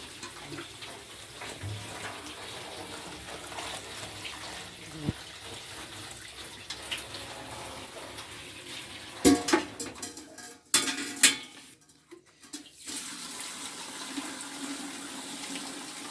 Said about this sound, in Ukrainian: І ось таким макаром вливається повністю.